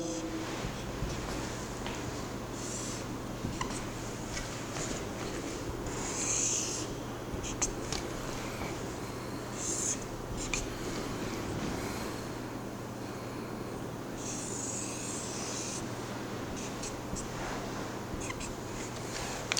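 A pen scratches across paper while graphs are drawn, producing intermittent quiet strokes and short bursts of scribbling over a steady low hum.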